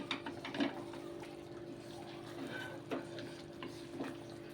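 A spoon scrapes and stirs ground masala through half a kilo of chicken curry in a pan, with soft recurring strokes over a low, steady sizzle and no talking.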